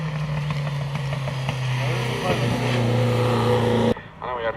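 A classic Toyota rally car drives out at a rally day show, its engine droning steadily with rising and falling pitch, loud and close, before cutting off sharply near the end as a voice speaks.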